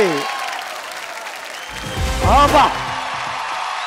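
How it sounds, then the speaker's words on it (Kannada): Studio audience applause on a comedy show welcomes the show's challenging star, a steady wash of clapping that swells briefly near the middle with voices, then settles back. "ಮಜಾ ಭಾರತದ ಚಾಲೆಂಜಿಂಗ್ ಸ್ಟಾರ್ ಬನ್ನಿ ಬರ್ಲಿ ಚಪ್ಪಾಳೆ ಬನ್ನಿ"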